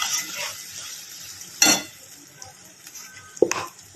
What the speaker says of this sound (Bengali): আদা রসুন প্লাস জিরে, গোটা ধনে ঢেলে দিলাম। এটা এরপর ভেজে নেব।